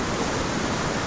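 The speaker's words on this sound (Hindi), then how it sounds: "और देखिए कैसे झरना बह रहा है ऊपर से" Steady, dense rushing water noise fills the whole moment, a constant broadband roar like a wild waterfall pouring nearby amid hills during torrential rain, with no voices.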